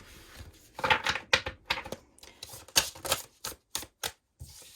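A rapid series of crisp clacking and flicking bursts, uneven in rhythm, from a deck of tarot cards being shuffled close up, with no voices.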